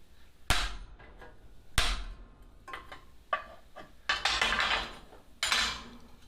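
A hammer drives a chisel to cut a metal welcome sign, giving sharp metallic strikes at irregular intervals, some isolated clanks and some clustered ringing blows, close and moderately loud.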